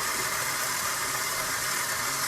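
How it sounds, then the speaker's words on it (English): A KitchenAid stand mixer runs at medium speed beating egg whites for a grapefruit poppy seed cake, a loud, steady motor whir with a broad hiss and no pauses. "I can keep the speed at medium right now. So that's like between a 4 and a 6 on my KitchenAid"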